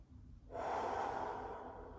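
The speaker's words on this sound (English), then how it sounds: "Breathe in, breathe out. Just 5 deep breaths." A single deep breath drawn in after a brief quiet moment, a broad airy rush that holds steady and then eases slightly; close-miked and soft, with no talking.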